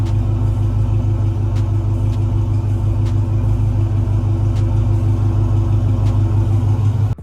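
A car idling on a cold start before a camshaft install, the engine holding a steady, close, low rumble with a faint ticking above it, unbroken until a sudden drop at the end.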